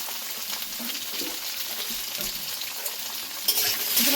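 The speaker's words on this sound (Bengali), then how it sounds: "আলুটা ভেজে নিয়েছি" Potatoes fry in a pan for a Bengali vegetarian dish, giving a steady, close sizzle under repeated scraping stirs of a spatula, with no talking.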